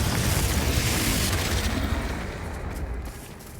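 Confringo fire-blast spell explosions in Hogwarts Legacy make a loud, dense rumbling burst that fills the whole moment and slowly tapers off.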